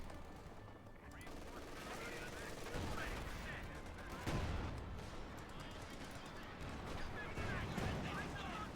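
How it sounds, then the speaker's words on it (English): Rifle grenade fire and gunfire from a Company of Heroes 2 match, with dense bursts of shots and explosions rolling under a steady battle din, mid-distance and moderately loud. "Rifle grenade off there."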